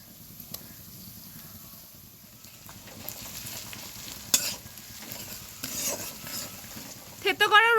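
Onions, green chilli and crushed garlic fry in a pan with a steady low sizzle and stirring scrapes, growing a little louder toward the end with brief sharper crackles.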